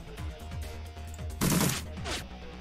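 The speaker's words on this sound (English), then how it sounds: "let's go ahead and shoot Holmes instead" Gunfire in the Shadowrun Returns video game: a short burst of shots in the middle, punchy and fairly loud over a low game soundtrack, with a fainter follow-up burst.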